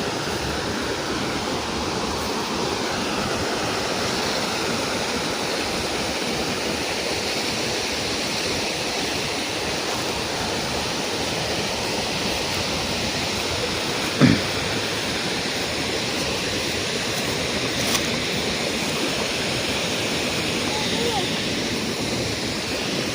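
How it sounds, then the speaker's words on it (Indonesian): River water rushes steadily past an old dam in a rural village, a continuous broadband roar that stays close and even throughout, with a brief knock partway through. "Jadi aliran airnya bagus banget."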